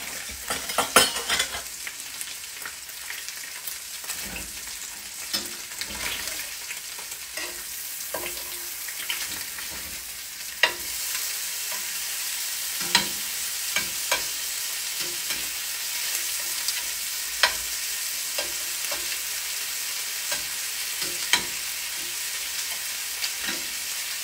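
Cauliflower frying in a hot pan, a steady close sizzle running throughout, broken by sharp scrapes and clacks of a spatula as pieces are turned and flipped.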